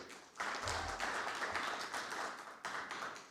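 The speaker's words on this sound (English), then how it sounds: "Some applause for him." An audience at a market platforms conference session claps to welcome a speaker: a modest, fairly distant round of applause that swells, dips and picks up again before tapering off.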